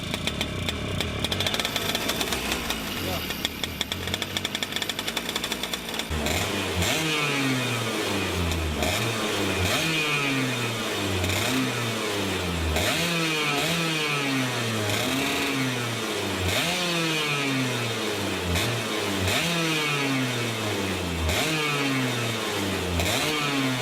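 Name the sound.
racing kart engine starting and revving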